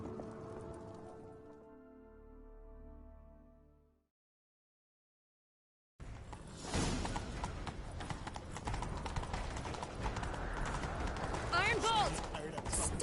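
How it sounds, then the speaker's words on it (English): A horse gallops in a video game, its rapid, rhythmic hoofbeats loud and continuous after a brief silence, with voices speaking over the clatter. "Grab a horse, we'll chase him down."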